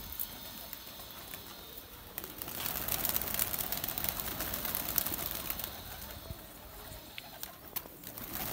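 Kasoori pigeons coo and rustle in a loft in Bakshi Nagar, Jammu and Kashmir, their soft calls mixed with wing flutters and scattered taps over a steady background hiss.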